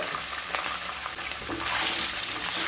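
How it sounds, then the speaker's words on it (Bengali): Paneer pieces fry lightly in hot oil with a continuous bright sizzle, while occasional clinks and scrapes from stirring cut through it; no voices. "পনিরগুলোকেও হালকা ভেজে নেব"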